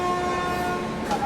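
A passenger express train hauled by a WAP 5 electric locomotive, its horn holding a steady, loud tone over the constant rumble of rolling stock, with a brief swell near the end.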